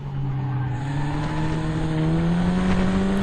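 Locost race cars at Cadwell Park, two running nearly side by side, engines droning loud and steady with rising revs and a thin tire squeal, no voices.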